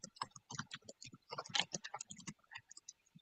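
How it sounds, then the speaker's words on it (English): Rapid irregular clicking of keys being typed on a computer keyboard, picked up nearby during an online group meeting, steady and fairly loud with no one speaking. "can someone mute if they're typing on there?"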